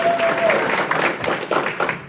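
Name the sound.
audience clapping for moderator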